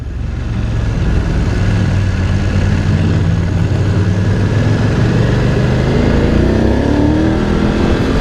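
A BMW GS motorcycle being ridden, its engine droning loud and steady at close range with wind noise throughout and no voices.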